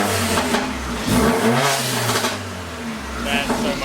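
A straight-piped Mercedes CLA45 AMG engine revs up and falls back in a couple of throaty swells, loud and close, with people talking over it.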